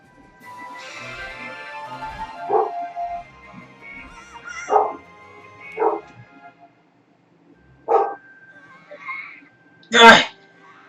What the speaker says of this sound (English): Great, now one of my dogs is freaking out right at the most important, integral part of the game.